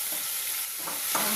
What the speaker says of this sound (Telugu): టమాటాస్ కొంచెం మగ్గే వరకు ఒక 2 నిమిషాలు వేయించాలి.